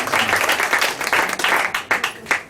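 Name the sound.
audience clapping at radio show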